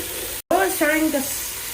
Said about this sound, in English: Alright, now we're gonna mix it once again.